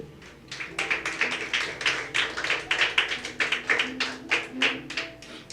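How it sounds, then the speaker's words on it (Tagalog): A church congregation claps along in a quick, steady rhythm of sharp, evenly spaced hand claps throughout a Sunday morning worship service, moderately loud with no talking over it. "Parang mahina po yung palakpak nyo kay Lord"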